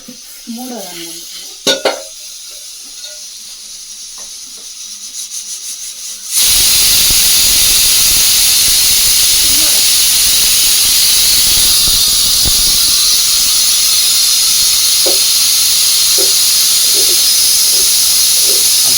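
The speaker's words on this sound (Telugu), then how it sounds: "ఆవిరి బయటకు వెళ్ళింది" A quiet stretch with a few soft clatters, then a loud, steady rush of steam hiss bursts in and continues without letup.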